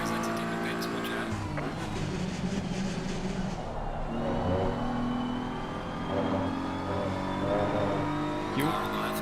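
A race car exits the pits in the Live for Speed racing game, its engine droning and revving steadily with brief tire squeal, while voices chatter over the car sound.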